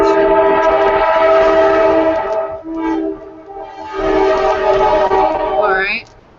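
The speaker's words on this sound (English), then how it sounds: "the train was super loud" A loud train roars past close by, its horn blaring in long sustained blasts that fade briefly and return before cutting off abruptly at the end.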